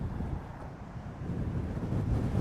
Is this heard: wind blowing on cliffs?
yes